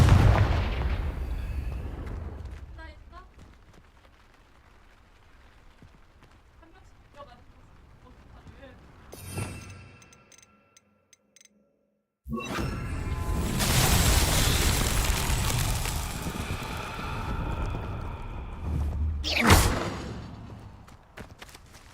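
Confringo blasting spell in a Harry Potter video game, heavy booming blasts with rumbling tails, one early and a louder pair later, separated by quieter stretches with footsteps and a moment of near silence.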